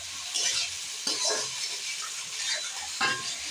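Ginger-garlic paste and tomato frying in a pan, a crackling sizzle punctuated by several distinct spatula strokes scraping the pan.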